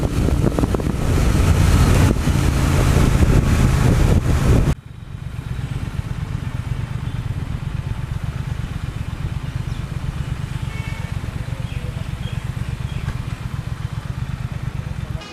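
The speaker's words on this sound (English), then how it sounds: "It's such an amazing motorcycle that I simply have fallen in love with this amazing machine." A Triumph Thruxton R cafe racer being ridden: heavy wind buffeting roars over the first few seconds, then a steady low engine drone continues with lighter wind noise.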